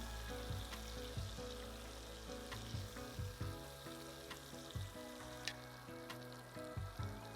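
Chicken sizzles and spits in a frying pan over medium heat, faint and steady, with soft scraping taps of a utensil stirring now and then.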